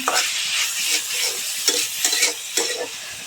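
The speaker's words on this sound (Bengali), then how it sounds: "রসুন প্রায় একটা গোটা ছিলে দিয়ে দিয়েছি। এটাকে একটু বাদামি করে ভেজে নিব।" Nearly a whole bulb of peeled garlic sizzles in hot oil in a pan with fried onions and chillies, a steady close crackle broken by repeated scraping stirs.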